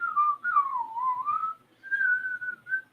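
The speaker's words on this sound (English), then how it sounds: "Yeah, I can't whistle." A person whistling a wavering tune alone, two short phrases that rise and dip in pitch with a brief gap between them, close and clear.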